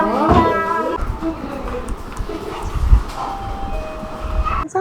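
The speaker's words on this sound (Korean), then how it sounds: "오늘 밖에 큰 개가 많아서 짖었어?" A big dog at a veterinary heart checkup gives a couple of loud, close barks near the start, followed by clinic noise with people talking.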